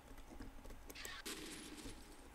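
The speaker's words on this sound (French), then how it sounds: "On va prendre le fusil à pompe." Pump-action shotgun fire in the horror shooter F.E.A.R., a few loud close blasts in quick succession with sharp bright cracks over game ambience.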